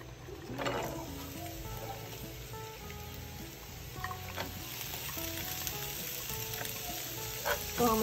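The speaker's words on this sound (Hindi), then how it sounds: "तो हम अच्छी तरीके से फ्राई करेंगे।" Green chillies and onion frying in a pan for a sweet pumpkin bhurji, a soft, steady sizzle with occasional light stirring scrapes, fairly quiet and close.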